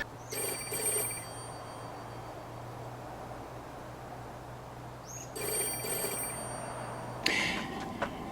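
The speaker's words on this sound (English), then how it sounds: "it should start ringing the phone outside" A payphone bell rings in two short bursts, then again after a pause, over a steady low hum and quiet room noise.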